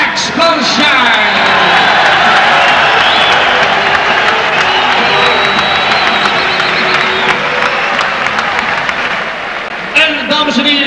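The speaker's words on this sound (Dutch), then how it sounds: "Welkomt u hem met een ovationeel applaus" Crowd applause and cheering for an unbeaten boxer from Amsterdam entering a Rotterdam fight venue, a loud sustained roar with whoops that holds steady for about ten seconds under an announcer's voice.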